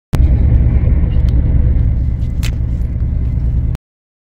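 A UK CrossCountry train running at speed on a journey from England to Scotland, heard from inside as a loud, steady low rumble that holds constant and then cuts off abruptly.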